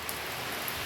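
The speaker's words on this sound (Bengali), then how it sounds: "কি জোরে বৃষ্টি পড়ছে।" Heavy rain pours down in a dense, steady wash of noise, continuous and even throughout, with no voices.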